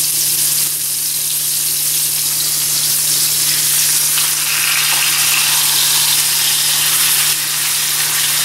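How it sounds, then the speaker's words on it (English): Chuck roast sears in a hot skillet with vegetable oil, giving a loud, steady sizzle and crackle close by that holds without pause. "I'm going to go ahead and get my meat in this hot skillet here with a little bit of vegetable oil"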